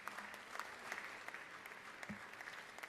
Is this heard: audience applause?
yes